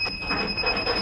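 BNWAS bridge navigational watch alarm sounding on a ship, a steady high electronic tone holding constant through the whole second over low background noise.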